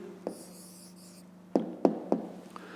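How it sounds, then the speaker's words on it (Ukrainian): A pen writes a maths answer by hand on paper, with a soft scratch at the start, then a few sharp taps and strokes close by in a quiet room. "Пишемо відповідь."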